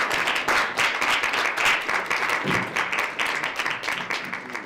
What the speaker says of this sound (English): Let's give a round of applause to our six partners